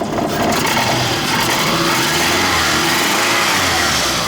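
A poorly maintained car engine idles roughly up close, a loud, uneven rumble with harsh vibration and scraping noise running continuously without talk.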